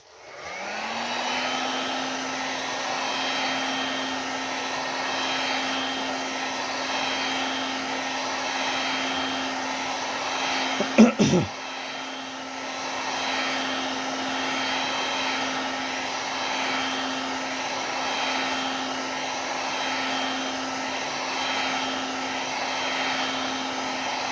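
A hot air blower heats the back cover of a Redmi Note 9 Pro with a steady, close, whooshing drone and a constant tonal hum. The airflow stays even throughout, broken by a brief knock or handling clatter midway.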